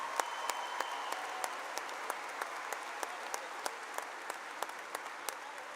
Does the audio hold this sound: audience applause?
yes